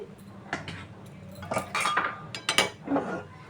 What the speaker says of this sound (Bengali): প্রেশারে আমি ঢেলে দিচ্ছি